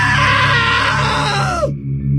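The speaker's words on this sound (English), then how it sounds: "Now that was a great scream" A loud, drawn-out scream from a woman in the video game What Remains of Edith Finch rises and then trails off abruptly, leaving a low hum behind.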